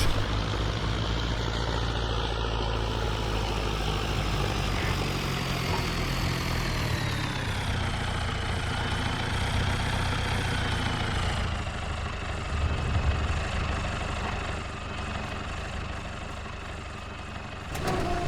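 A small farm tractor idles steadily with a large trailer hitched behind, its low engine drone loud, close and continuous throughout with only slight shifts in pitch.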